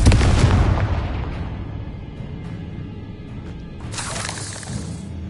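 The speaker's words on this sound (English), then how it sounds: "Confringo! These eggs must be destroyed." Confringo blasting spell exploding spider eggs in Hogwarts Legacy, a heavy booming blast that opens the moment and rumbles away, followed by a second, sharper crackling burst toward the end.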